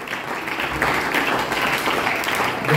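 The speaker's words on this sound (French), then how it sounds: "on acclame le Seigneur des seigneurs" A church congregation applauding steadily during worship, a dense wash of clapping sustained throughout at fairly close range, with faint voices mixed in.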